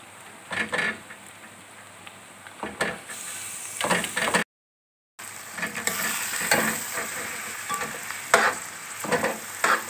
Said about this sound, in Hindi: थोड़ा सा इसको चलाएंगे, अब इसमें डालेंगे हम कीमा